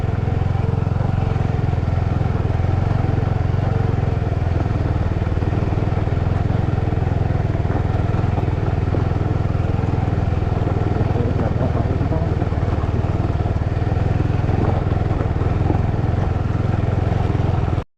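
A motorcycle stuck on a rough hill road drones and revs continuously at close range, straining steadily with a rough low rumble for the whole stretch.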